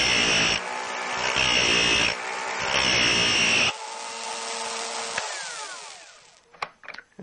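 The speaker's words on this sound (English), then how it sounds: "move the grinder wheel back and forth to cut the chisel side" A Drill Doctor sharpening machine grinding a drill bit, a loud close motor whine with gritty grinding that pulses in several strokes, then spins down and fades into a few faint clicks.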